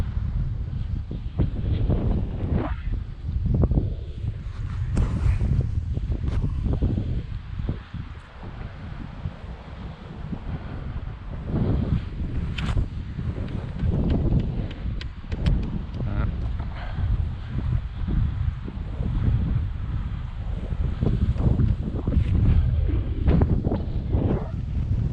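Wind gusts in an open park, buffeting the microphone with continuous low rumbling and rustling for about twenty-five seconds, loud and close, with no talking.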